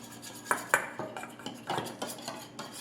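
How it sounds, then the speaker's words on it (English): A utensil stirring cornstarch into soy sauce in a bowl, giving close, irregular clinks and scrapes against the dish over a few seconds, with no talking. "once I have that stirred up and completely dissolved"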